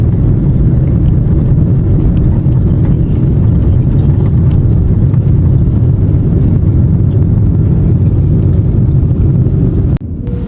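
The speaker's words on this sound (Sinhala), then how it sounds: "ඉතින් මේ තියෙන්නේ ෆ්ලයිට් එක ටික ටික ඉස්සරහට යන වීව් එක." Airliner cabin during a slow forward roll before takeoff on a flight from Canada to Sri Lanka, a steady loud low engine rumble and hum throughout, cutting off abruptly near the end.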